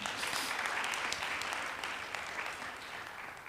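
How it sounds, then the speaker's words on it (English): Audience applause at a talk on gender equality and education, a dense, even clatter of many hands clapping that fades slightly toward the end, with no voices over it. "So big applause to Dr. Amal."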